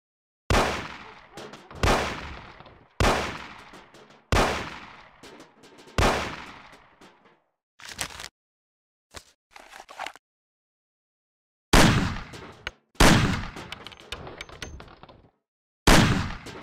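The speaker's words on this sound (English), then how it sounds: "Shoot the cans off of the table." Gunshots fired at cans on a table in the Mafia video game: about eight loud, sharp reports, evenly spaced at first, then a pause and another quick cluster, each with a short decaying tail.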